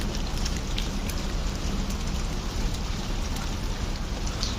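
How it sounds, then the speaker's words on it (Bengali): Sudden heavy rain pours down on a rooftop garden, a steady dense hiss of drops striking surfaces with scattered louder splats, continuous and close, no voices. "হঠাৎ করে বৃষ্টি শুরু হইলো এরকম।"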